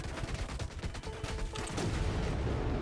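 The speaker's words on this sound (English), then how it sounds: "the missile starts folding. And there we go. It just starts erupting with energy." An energy missile in the Trailmakers video game erupts with energy, a dense crackling roar of rapid bursts and booms that swells and holds steady, loud and continuous with no voices.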